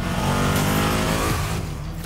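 A Ducati Panigale V2 motorcycle engine revs loudly and close, its pitch rising and falling through a steady, harsh drone with no talking.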